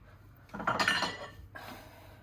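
Oven dishes being handled in a home kitchen, a short burst of clinks and scraping clatter lasting about a second, close and moderately loud, followed by a quieter knock.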